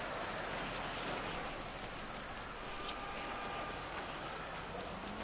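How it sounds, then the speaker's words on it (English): Steady rain hisses down in GTA 5 as a character runs through it, a dense, even wash of noise that holds constant and fairly close with only faint ticks on top and no talk. "Just running in the rain."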